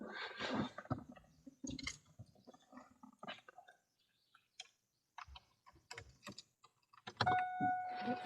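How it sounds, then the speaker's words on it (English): Ignition key of a 2002 vehicle being turned on: keys jingle with a few close mechanical clicks, then a steady electronic chime rings near the end. "So I'm going to turn the key on."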